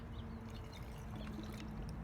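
A cup of water is poured into a container holding soil, sticks and a leaf, making a quiet, continuous trickling pour heard close up and alone.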